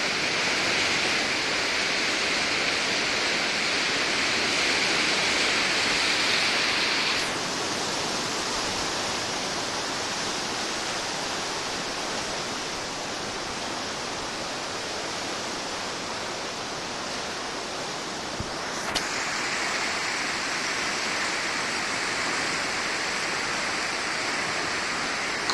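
The flooded Lašva river rushing past during the 2014 floods: a loud, continuous roar of churning water that is steady throughout, with a slight drop in intensity partway and no speech.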